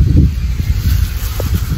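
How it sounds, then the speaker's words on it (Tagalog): Strong wind blows outdoors at a taro-gathering spot, a loud, steady low rumble of gusts buffeting the microphone throughout, with no talking. "Sobrang lakas ng hangin."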